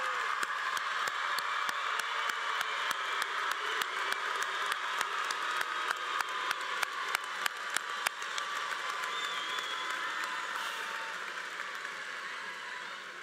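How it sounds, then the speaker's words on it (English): A graduation audience in a large hall keeps up a long, steady round of applause, a dense wash of clapping with a few sharper individual claps, fading slightly near the end. "You can give him one more big round of applause."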